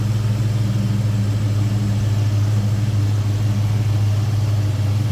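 A 1975 Ford Torino Elite's engine runs at a smooth, steady idle, a deep constant hum heard close up with no voices.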